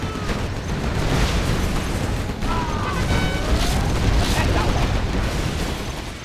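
Explosions destroying a Stinger site in Command & Conquer: Generals, a dense rumbling barrage of booms rolling on continuously and loudly, with battle noise and a voice talking underneath.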